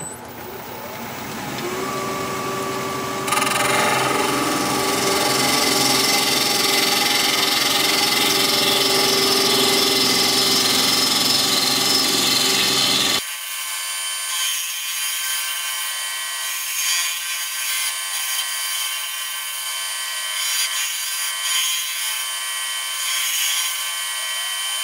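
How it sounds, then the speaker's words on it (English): Chestnut turned on a wood lathe at 1300 RPM with a half-inch standard-grind bowl gouge: a loud, steady machine drone with broadband cutting noise for about thirteen seconds, then an abrupt drop to a quieter, thinner hiss. "I'm going to be using a half-inch standard grind bowl gouge. I'm going to be turning at 1300 RPM"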